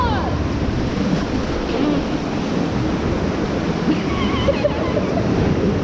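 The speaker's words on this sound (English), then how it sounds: "We're just splashing everybody back here." Rushing river water and splashing during whitewater rafting on the Ocoee River, a steady broadband wash with wind buffeting the microphone and faint voices under it.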